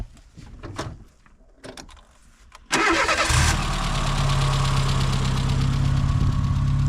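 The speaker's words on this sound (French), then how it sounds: "Hop là, on va passer au démarrage." A warm Peugeot 205 fitted with a stainless steel exhaust cranks briefly after a few clicks and rattles, then catches and settles into a steady, close idle.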